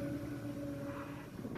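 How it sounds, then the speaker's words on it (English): A train passes in the background, a faint low steady rumble with a sustained droning tone, distant and continuous under a quiet indoor setting. "Excuse the train in the background."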